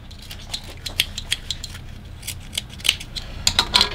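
Scissors snip through fabric while a two-piece dress is cut out, a quick irregular run of crisp, close clicks and slices with short pauses between, no talk.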